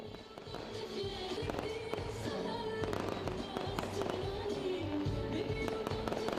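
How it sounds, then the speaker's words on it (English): Fireworks display at a Christmas tree lighting ceremony marking the start of the festive season, with a dense continuous crackle and popping bursts at steady loudness throughout, heard amid crowd noise and possible faint voices. "There was also fireworks display marking the beginning of the festive season."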